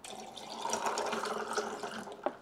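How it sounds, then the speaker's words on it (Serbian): A drink is poured at a just-married couple's celebration in a steady liquid stream lasting a couple of seconds, close and fairly quiet, ending with a small clink. "Znaš kako vam profesionalci sipaju ovako?"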